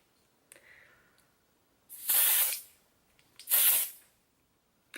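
Spray foundation misted from a can in two distinct hissing bursts, each about a second long, close and clear in a quiet room, with a faint shorter sound before them.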